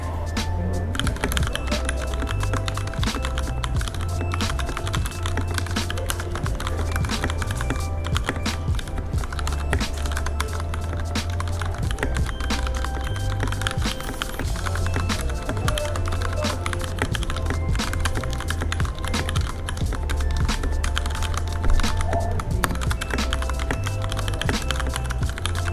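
A Varmilo x Ducky Summit V2 Miya Pro keyboard is typed on continuously, a dense, even clatter of keystrokes over a low background hum.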